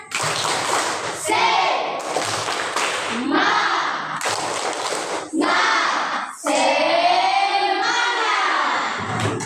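Students in a classroom doing the rhythmic 'tepuk semangat' clapping ice-breaker: bursts of patterned group claps and thumps alternating with loud chanted voices, close and energetic.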